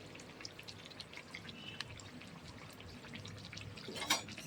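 Kachori made with moong dal sizzling in hot oil, a steady soft crackle and spatter throughout, swelling into a louder bubbling burst near the end as more dough goes into the oil.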